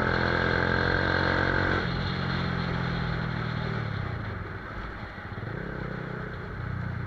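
A Yamaha R15 V2 motorcycle fitted with a Daytona aftermarket exhaust idles steadily nearby, its throaty, slightly sharp exhaust note running alone with small fluctuations in pitch.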